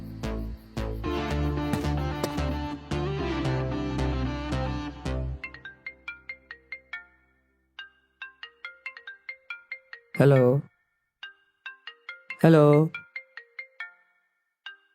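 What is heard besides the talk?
phone ringtone ringing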